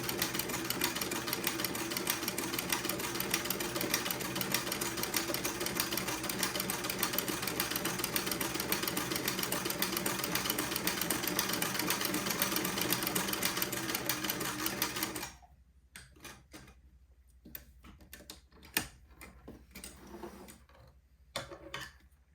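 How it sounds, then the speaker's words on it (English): Domestic sewing machine stitching a buttonhole on baby clothing, a steady rapid mechanical whir for about fifteen seconds at close range, then stopping and followed by soft handling clicks and rustles. "Lower my presser foot, and then proceed to sew another buttonhole"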